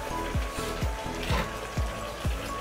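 Chicken feet adobo with vinegar simmering in a pot, giving a steady bubbling sizzle with soft recurring low thumps roughly every half second, close and moderately loud with no talking.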